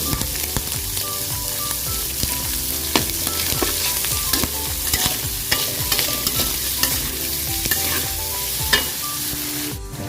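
Pork belly and shallots stir-fried in a hot pan for a Thai dish, with steady loud sizzling and frequent clattering scrapes of a spatula throughout, no talking.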